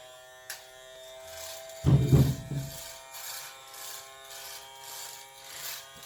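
A toy Miele vacuum cleaner hums with a steady, thin electric buzz that runs throughout, with a brief louder thump or rustle partway through, heard close and fairly quiet.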